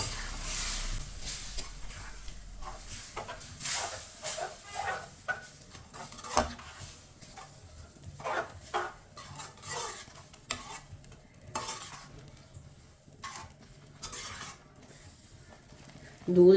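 Semolina being stirred with milk in a pot while making gajar ka halwa: continuous scraping and swishing of a spoon against the pan with faint sizzling, steady and close, with a clank at the end.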